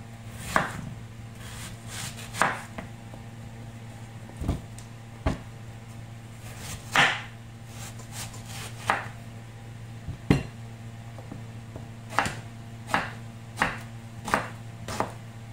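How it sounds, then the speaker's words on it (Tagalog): A knife cuts through a large peeled mango on a board, giving a steady series of sharp chopping taps, close and clear over a low constant hum, with no talking. "Hiwain na natin siya. Ganyan ang paghiwa kasi masyadong malaki yung mangga."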